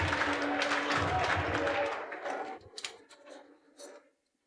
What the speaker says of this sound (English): please give a very big round of applause for the French team.